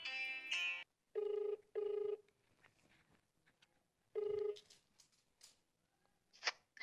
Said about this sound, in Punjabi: ਫੋਨ ਦੁਬਾਰੇ ਫੇਰ ਆ ਗਿਆ